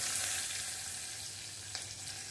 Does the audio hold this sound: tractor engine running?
no